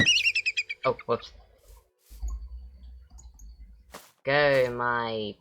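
Bird calls from a trained eagle in a Minecraft zoo: a rapid series of sharp chirps at the start, scattered clicks, then a louder sustained screeching cry near the end, with someone talking in between.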